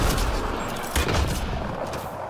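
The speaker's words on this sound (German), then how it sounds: "Das waren ja gerade mal zwei Schüsse." Dense, rumbling gunfire in the video game Mass Effect Andromeda crackles continuously, a loud barrage of overlapping shots and booms with no clear gaps.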